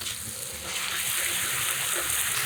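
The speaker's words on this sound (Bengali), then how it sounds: "আদা রসুন পেঁয়াজ বাটাটা এখন তেলের মধ্যে একটু কষিয়ে নেব" Ginger, garlic, onion and green chilli paste frying in oil for chicken biryani, a steady close hiss and sizzle that swells slightly louder partway through, with no one speaking.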